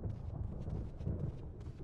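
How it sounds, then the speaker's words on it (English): Low, rumbling thunder in the Resident Evil video game rolls on as a faint, continuous storm, with no voices over it. "Thunder."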